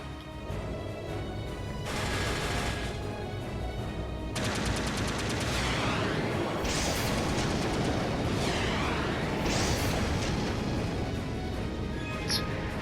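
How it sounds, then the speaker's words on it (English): Heavy, continuous video-game battle fire from an airship's main cannons and secondary armaments, a dense roar of rapid gunfire and blasts with sharp bursts layered over a constant loud rumble throughout. "Main cannons and secondary armaments are ready to fire."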